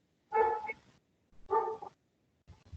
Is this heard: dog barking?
yes